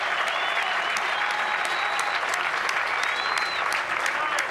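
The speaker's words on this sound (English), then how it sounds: "they're standing up, applauding, standing ovation" A golf gallery at the 1991 PGA Championship gives a standing ovation, with dense, loud, steady applause and a few scattered whistles running through the whole stretch.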